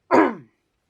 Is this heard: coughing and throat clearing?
yes